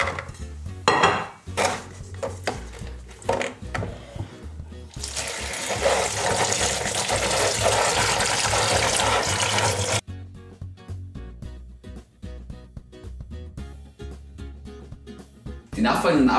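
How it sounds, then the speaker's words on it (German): Fresh chili peppers washed by hand in a sink, with clinks and handling sounds followed by a loud burst of running tap water for several seconds that cuts off abruptly, then more handling noises. "So, dazu waschen wir sie erstmal."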